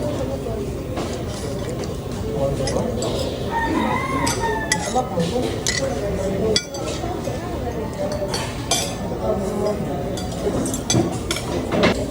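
A rooster crows amid a busy mix of people talking, clinking sounds and general bustle, the calls rising over the crowded background.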